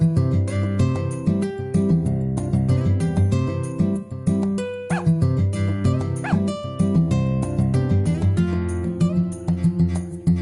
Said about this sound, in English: It looks like we have some stray dogs here.